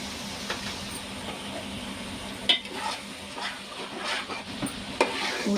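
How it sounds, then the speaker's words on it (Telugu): Chili powder stirred into a frying boti gujju curry, a steady close sizzle with scraping spoon strokes against the pan, heard alone without talking. "కారం వేసాను కదండి ఇది కలిసే వరకు బాగా తిప్పాలి"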